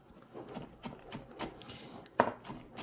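A knife chops green onions on a cutting board in soft, irregular strokes, ending with one sharper, louder chop near the end.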